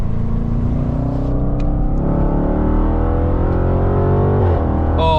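A 600 hp Manhart-tuned Range Rover Velar SV, weighing about 2200 kg, pulling hard on the Autobahn, its engine note climbing steadily through the gears as a loud continuous roar.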